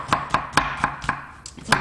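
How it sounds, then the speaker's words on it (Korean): A kitchen knife cuts an onion into thin strips along the grain on a board, seven crisp, evenly spaced chops in a quick steady rhythm, close and alone. "양파는 채 써는데 결대로 써는 거고요"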